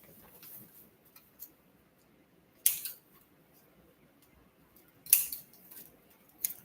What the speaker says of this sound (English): Let me cut off that tag